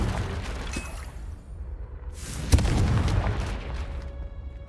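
A Confringo blasting spell erupts in Hogwarts Legacy, a sudden loud boom about midway followed by a sustained rumbling roar over a low, steady game-ambience background.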